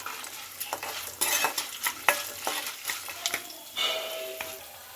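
Garlic cloves fry in hot tempering oil for a gongura pickle, crackling softly with scattered sharp pops and the scrape of a stirring spoon against the pan.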